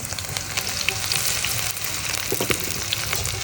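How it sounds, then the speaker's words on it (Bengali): Chopped onion and chili sizzle steadily in hot oil, a dense continuous frying hiss with scattered crackles and occasional utensil scrapes, close and fairly loud, no voices. "এবার আমি তেলের মধ্যে পেঁয়াজ কুচি এবং মরিচ কুচিটা দিয়ে দিব"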